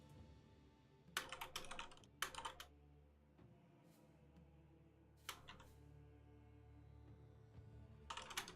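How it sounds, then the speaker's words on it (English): Computer keyboard typing during a PC game session, short clustered bursts of keystrokes at moderate distance, separated by quiet pauses with a low steady background hum. "You guys might hear more of my typing now"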